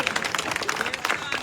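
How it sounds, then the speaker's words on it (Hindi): A seated audience at a political gathering claps loudly to welcome a woman who stands up. The dense, steady applause runs throughout, with voices mixed in. "जोरदार ताली बजा के स्वागत"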